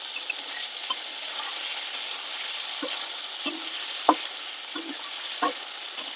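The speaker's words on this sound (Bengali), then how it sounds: "পনিরটা বেশি ভাজবো না," Paneer cubes frying in salted oil for a paneer and potato curry give a steady, even hiss that runs without a break, with a few soft scrapes and clicks from stirring. No one speaks.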